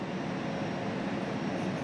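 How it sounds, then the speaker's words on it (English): A jet aircraft engine drones in flight near Aspen Airport as a steady, even broadband roar that holds unchanged throughout, heard alone at a moderate level. "I'm flying a jet"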